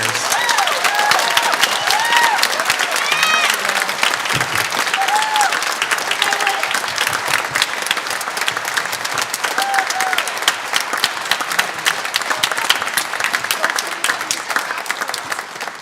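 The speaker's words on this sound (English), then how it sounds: "a big round of applause for our seniors" A high school band concert audience applauds the graduating seniors with a steady, dense wash of clapping from many hands, sustained throughout with faint cheering and voices underneath.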